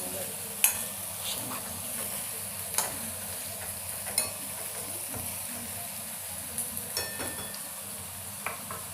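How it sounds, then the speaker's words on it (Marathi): Ingredients are stirred and mixed together in a pan, giving a soft, steady sizzle broken by occasional sharp spoon clinks and scrapes against the metal, fairly quiet and close. "आता आपल्याला हे सगळं मिक्स करून घ्यायचं आहे."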